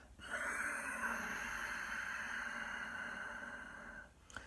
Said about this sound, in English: That raspy, silky sound from the back of the throat.